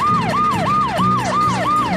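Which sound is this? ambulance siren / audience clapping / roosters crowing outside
ambulance siren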